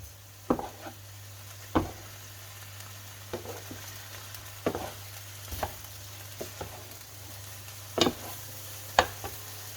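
Mama instant noodles stir-fried in a pan sizzle steadily while a utensil scrapes and clatters against the pan in irregular strokes every second or so, close and clear.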